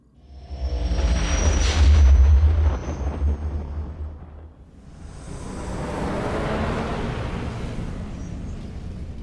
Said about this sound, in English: Pucara, do as the droid says and prepare to jump to light speed